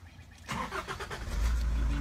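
A safari vehicle's engine cranks and catches during a South African game drive, then settles into a loud, close, steady idle with a deep rumble.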